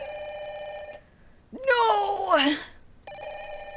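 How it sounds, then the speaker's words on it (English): An old telephone rings in the horror video game Fatal Frame: Maiden of Black Water, steady electronic bursts before and after a shouted voice. "That phone sounds busted."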